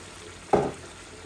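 Pabda fish curry with potato and tomato in the pan gives one short, close burst of sizzling as a little water goes in, then fades back to a quiet background hiss.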